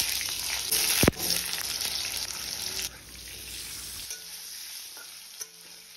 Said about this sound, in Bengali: প্রথমে কড়াইতে তেল দিয়ে আমি আলুগুলো ভেজে নেব